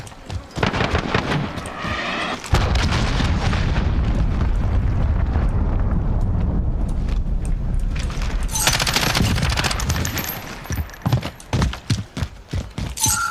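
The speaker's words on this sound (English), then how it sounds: "Allied cruise missile away." Cruise missile strikes in Call of Duty Modern Warfare land as a sustained, loud roar of explosions and rumbling blasts, broken up by rapid gunfire bursts before and after, with no talking.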